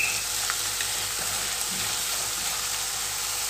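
Tomatoes and coriander leaves for chutney sauté in a pan with a constant hiss of frying, close and even, with a few faint stirring taps and no talking.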